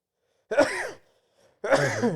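Two sharp, voiced bursts a moment apart, the second a sneeze-like explosive outburst, close and fairly loud with silence between them.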